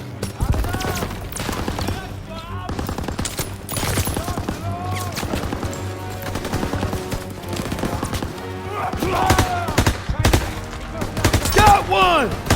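Sustained machine gun fire in the World War II shooter Call of Duty WW2 rattles in rapid, overlapping bursts alongside louder shots and explosions, under tense music and shouted soldier dialogue.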